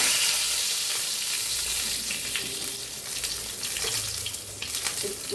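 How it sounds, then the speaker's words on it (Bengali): A bay leaf sizzles and crackles steadily in hot oil, tempering spices for a stuffed potato dum curry, with a loud, continuous frying hiss and occasional sharper pops. "ফোড়নে দিয়ে দিচ্ছে একটা তেজপাতা"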